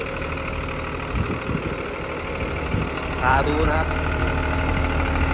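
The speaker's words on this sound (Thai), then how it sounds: "ตัวนี้เครื่องหกสูบนะครับ" A large diesel excavator's six-cylinder engine, a Hitachi EX200-2, idles with a steady low rumble nearby, while someone talks over it briefly.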